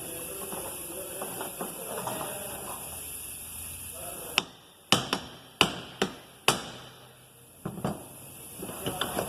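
A bronze hammer strikes metal five times in sharp, ringing blows spaced about a second apart, followed by a few lighter taps over steady background hum.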